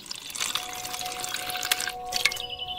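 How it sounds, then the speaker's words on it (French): Water splashes into a pot holding meat, red wine and a sprig of thyme and rosemary, a close, steady pouring rush with bright trickling that carries on throughout. "Ajoutez de l'eau"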